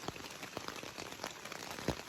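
Light rain falling on a campsite during a canoe bear-hunting trip, a faint steady patter of scattered drops with occasional louder taps, quiet and without talk.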